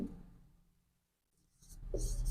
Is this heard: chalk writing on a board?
yes